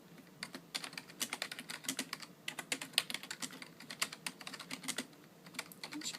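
Rapid, irregular clicking of fingers typing on a computer keyboard during a softly spoken ASMR roleplay, close and crisp, with steady bursts of keystrokes and no voice.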